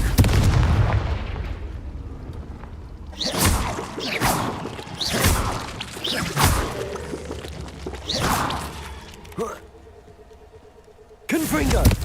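Booming fire-spell blasts in the video game Hogwarts Legacy, several heavy explosive hits with whooshing tails arriving in irregular succession, with a player's voice talking over the action and a sharp burst at the end.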